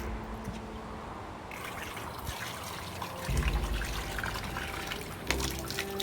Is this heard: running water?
yes